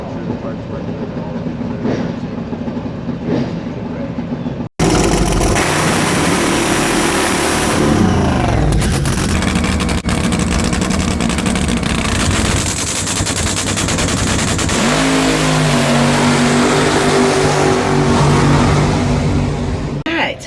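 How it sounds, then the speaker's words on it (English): A funny car drag racing engine at Texas Motorplex bursts into a loud, harsh, rapid-fire rev after a quieter idle, staying intense and close for about fifteen seconds with shifting pitch. "A beautiful, funny car."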